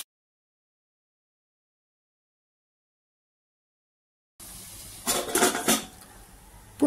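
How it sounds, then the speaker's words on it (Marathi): Whole masoor lentils being sautéed with spices in a pan: after more than four seconds of silence, a short burst of clinking and scraping of a utensil against the cookware comes up close, with no voices. "अख्खा मसूर आहे हा धुवून ठेवलेला, हा परतून घेऊया।"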